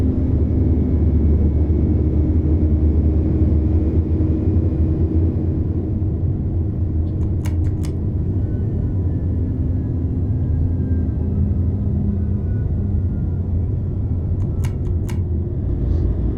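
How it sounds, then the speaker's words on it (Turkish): A Neoplan Tourliner coach's retarder in Euro Truck Simulator 2 drones as a steady low mechanical rumble, close and continuous, with a few brief faint clicks. "İnceden de olsa retarder sesini alın diye uğraşıyorum burada bak."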